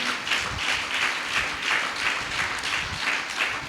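A church congregation claps steadily and fairly loudly in a dense, continuous burst of applause, filling the hall without talk.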